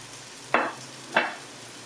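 Cauliflower dropped into frying masala in a pan, two short sharp bursts of sizzle and scraping about half a second apart over a quiet background hum.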